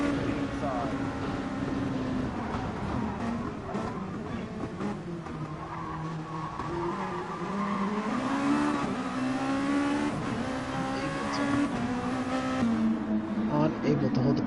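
Race cars in Gran Turismo Sport at Fuji, drafting and overtaking in an NGT500 challenge race, give a steady loud engine drone with shifting pitch and tire squeal throughout, while a commentator talks over it.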